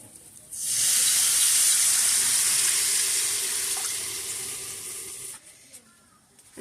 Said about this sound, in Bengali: মশলা থেকে তেল ছেড়ে দিয়েছে এখন ঝোলের পানি দিয়ে দিব